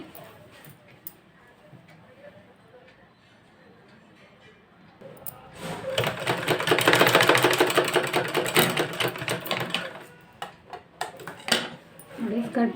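A sewing machine stitches a skirt at the waist. After a quiet stretch with faint handling noise, it runs in a fast, sustained whir for about five seconds close by, then ends with scattered clicks.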